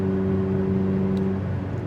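Ferrari 488 Pista supercar being driven, a steady low engine drone with a sustained tonal hum from inside the cabin, moderately loud and without talk.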